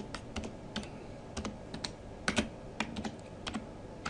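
Fingers typing a name on a computer keyboard: a steady series of separate, fairly close key clicks in an uneven rhythm over a quiet room, with no talking.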